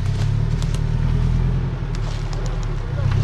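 A 4x4 off-road vehicle grinds over dirt and a log with a steady, loud, low engine rumble and drone, close and continuous throughout.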